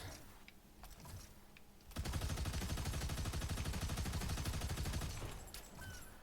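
Turret gunfire in the video game Marvel Rivals, a rapid, continuous stream of shots that starts abruptly after a quieter stretch of game sounds, lasts about three seconds, then gives way to softer ambience.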